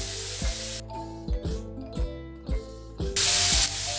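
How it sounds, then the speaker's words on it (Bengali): Tomatoes for a homemade tomato achar sizzling and frying in a pan while being stirred, a steady hiss broken by several soft scraping stir strokes, with a louder burst of sizzle near the end; no talking. "টমেটোটা ভালো করে নাড়াচাড়া করে প্রথমে মিশিয়ে নেব"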